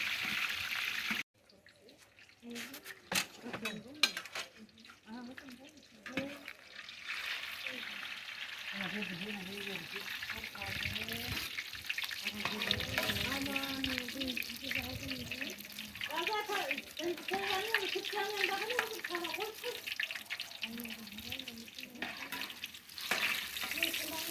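Eggplant slices frying in oil, giving a steady close sizzle with crackling bubbles throughout, briefly quieter near the start, while a voice talks over part of it.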